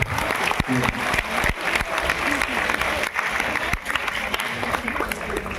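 A crowd bursts into steady applause at a school annual function as a guest is presented with a floral bouquet, the clapping loud and continuous for several seconds.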